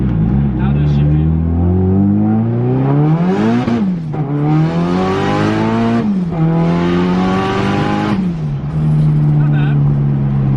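A car with a 3.4-litre JZ engine and longer gearing revs hard up through the gears, a loud, continuous rising engine note with brief dips at each shift, close and in-cabin.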